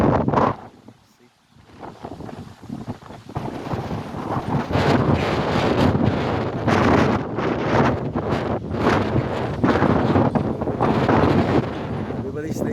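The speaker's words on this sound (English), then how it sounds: "we have a big storm right now" Strong storm wind roars continuously on a microphone in Vacaville, California, during high winds and rain, gusting loudly after a brief lull near the start, with a person speaking under it.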